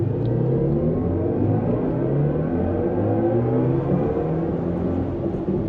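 A BMW pulls away and accelerates hard on an M Town tour drive, its engine note climbing through rising sweeps and gear changes, loud and steady from inside the cabin.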